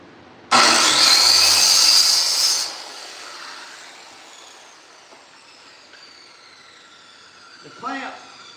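A Diablo saw blade cuts 14 gauge aluminum sheet for doors on a 1961 Ford P100 box truck. There is one loud, bright, screeching cut lasting about two seconds, then a quiet tail and a brief voice near the end.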